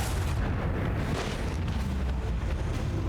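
Lance battery volleys firing in Warhammer 40,000: Rogue Trader, a dense continuous rumble of heavy booming blasts that stays loud and steady throughout.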